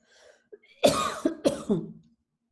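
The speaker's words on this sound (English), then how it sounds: "I'm going to cough." A single person coughs twice in quick succession, close and fairly loud, with a faint voice just before.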